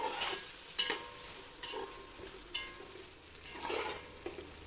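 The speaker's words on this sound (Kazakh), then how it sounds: "Пиязды осылай қып-қызыл болғанша жақсылап қуырып алдым." Onions sizzle steadily in hot oil for plov while a utensil stirs them at irregular intervals, soft scraping strokes over a faint continuous frying hiss, close and with no talk.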